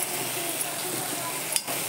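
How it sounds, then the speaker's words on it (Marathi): Raw banana vegetable stirred as it fries in oil with onions in a pan, a steady close sizzle with soft scraping throughout and a brief clink near the end, no voices. "मस्त तेल कांद्यावर आपण ही भाजी परतली"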